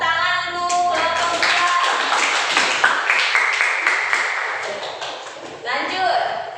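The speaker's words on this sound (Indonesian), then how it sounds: "Bagus, tepuk tangan untuk kelompok" Classroom applause for a student group, a burst of clapping at the start under overlapping voices, then dense pattering claps running through the clip with talk continuing on top.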